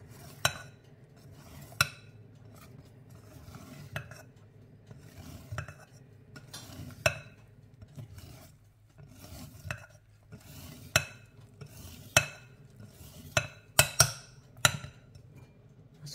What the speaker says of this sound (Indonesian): aduk sebentar